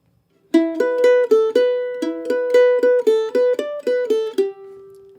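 A mandolin plucks a quick, bright reel phrase of evenly spaced single notes, played solo and close, ending on a ringing sustained note.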